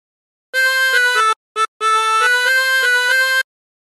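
A chromatic harmonica plays a short phrase of the Battle Hymn of the Republic as clear, sustained reedy notes, pausing briefly mid-phrase before finishing the melody, with no talking.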